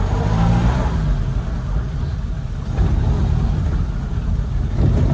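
A 1950s Italian Fiat 1100 runs steadily on a test drive, its engine a loud, continuous drone with mild swells as it pulls along and no talking.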